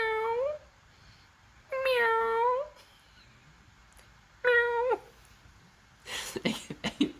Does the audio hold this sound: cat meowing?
yes